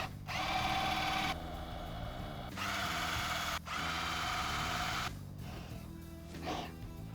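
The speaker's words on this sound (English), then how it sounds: "we need to finish drilling the holes through the surface of your pedal board" Power drill boring holes through a pedalboard surface, several bursts of whirring motor noise separated by short pauses, each run grinding steadily before stopping, fairly close with no talking.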